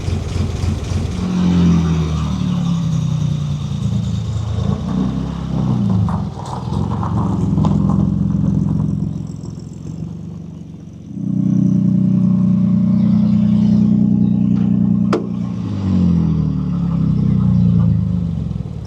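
Vintage club car fitted with an Austin truck engine, running steadily just after starting, a loud close idle with a strong low rumble that swells with brief revs before settling back down.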